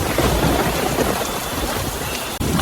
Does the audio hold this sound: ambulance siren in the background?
no